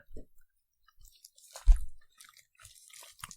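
Someone chews something slimy like meat, with scattered wet, squishy mouth sounds and one louder crunchy bite in the middle, close and intimate, no talking.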